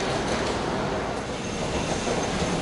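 A New York subway F train rumbles along its tracks with a continuous roar, faint clickety-clack and wheel squeal heard from inside the moving car. No voices are heard.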